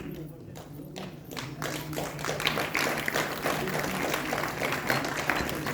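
Loud, dense applause from an audience at a retirement ceremony at IVRI in Bareilly, building after a quiet start and then sustained as a close, continuous wash of clapping.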